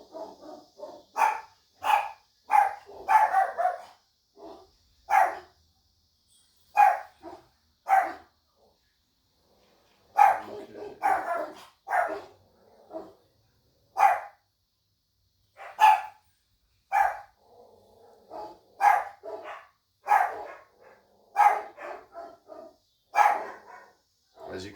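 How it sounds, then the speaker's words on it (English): Several hound dogs bark outdoors in repeated loud bursts with short pauses, some overlapping yips mixed in, barking steadily throughout. "As you can hear, my hounds are going off."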